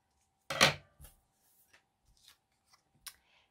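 Scissors snip straight across paper for a junk journal: one louder cut up close, then a few lighter, scattered snips and paper rustles in a quiet room.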